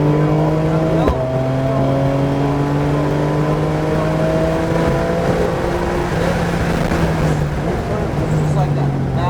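Porsche GT3 engine pulling hard on a racetrack at Homestead, its rising whine climbing steadily in pitch before easing briefly, loud and continuous inside the car.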